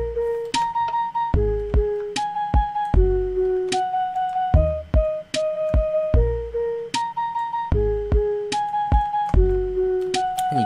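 A looping Minecraft note block redstone melody of plucked, bell-like notes in a steady rhythm, with punchy low thumps marking the beats, clean and alone.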